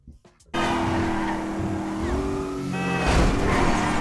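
A Vapid Dominator in a video game drives with a loud, steady engine drone and rising harmonic pitch as it accelerates and shifts. A tire squeal or skid flares near the end.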